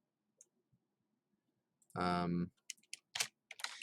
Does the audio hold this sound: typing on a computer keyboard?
yes